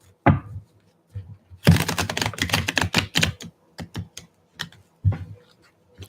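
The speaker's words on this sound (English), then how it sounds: "Let's do one more shuffle." Tarot cards are shuffled by hand in quick bursts of crisp, rapid papery clicks, with a longer flurry in the middle and a few separate snaps before and after, close and fairly loud.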